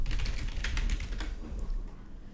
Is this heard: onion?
no